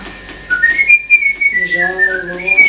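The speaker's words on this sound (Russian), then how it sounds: "Ты меня просила не петь и не мычать, я свистю" A person whistles a tune loudly and close, the melody rising and falling in clear sustained notes.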